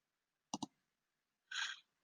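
A computer mouse gives a quick double click, followed by a brief muffled rustle, near and quiet against silence.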